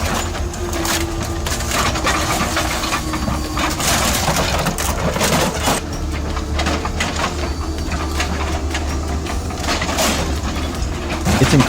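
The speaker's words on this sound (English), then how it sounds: "machines with 200 horsepower engines roar like beasts, crushing, disassembling, and recycling cars in just minutes" Heavy 200-horsepower machines crush and tear apart cars at a recycling yard, a dense, continuous grinding roar filled with cracking, splintering crunches and metallic rattles, loud and steady with no talking.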